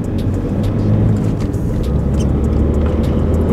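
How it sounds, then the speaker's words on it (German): A BMW car pulls away, its engine giving a loud, steady low rumble heard from close by with road and wind noise layered on top, and no voices. "Und jetzt fahren wir einfach mal los"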